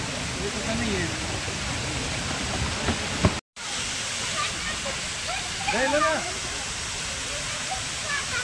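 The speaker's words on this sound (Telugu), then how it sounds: "ఎప్పుడు నేను ఇన్ని వాటర్ ఫాల్స్ ఇలా చూడలేదు నాన్న శిల్పారామంలో" Night-time waterfall at Shilparamam pours in a steady, loud broadband rush with no letup, while voices talk over it and a brief dropout breaks the sound partway.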